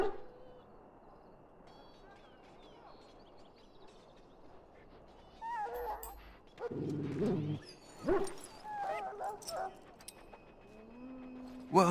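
A dog in the video game Dragon Age Origins whimpers and yips in short, uneven bursts over a quiet, rustling ambient background, with a couple of louder yelps toward the end.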